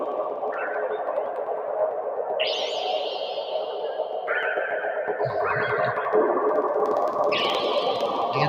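Gliding sine-wave tones from a modular synthesizer, a cloud of eight sine waves drenched in reverb, swoop and jump between pitches in whinny-like, animal-sounding calls with echoing tails, steady and fairly loud throughout.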